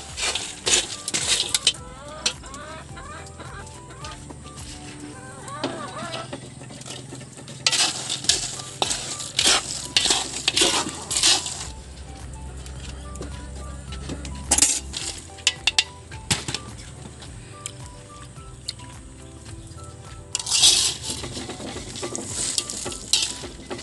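Raw peanuts stirred through hot sand in a pan give a steady gritty scraping and rattling, with repeated louder stirring strokes and occasional sharp clinks, close and continuous with no talking.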